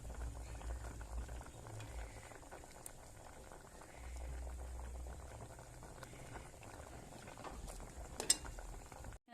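Lentils (dal) boil in a pot for tarka, a steady bubbling and gurgling with low rumbling, moderately quiet and unbroken, with a brief sharp knock near the end.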